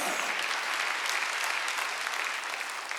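A church congregation claps together in steady, dense applause that fills the room at an even loudness throughout.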